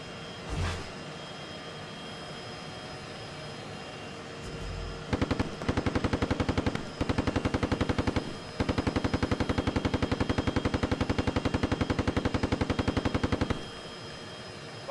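Sustained automatic gunfire from a vehicle coaxial machine gun during a military fire-and-adjust drill, loud rapid bursts separated by short pauses, preceded by a single louder bang.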